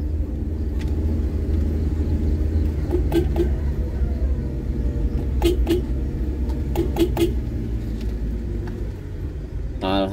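A car on a steep, narrow village road in Blitar, East Java, rumbles past with a steady low engine drone that swells and eases, while birds chirp faintly in the rural background.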